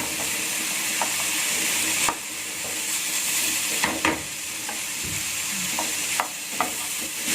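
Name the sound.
stirring curry powder frying in pan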